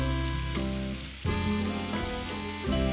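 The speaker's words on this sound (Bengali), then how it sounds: "হালকা নাড়াচাড়া করে অল্প একটু জল দেব যাতে মশলাটা ধরে না যায়" Spiced masala for egg rezala frying in a pan with eggs added, a dense steady sizzle with a couple of brief stirring shifts, close and fairly loud, no talking.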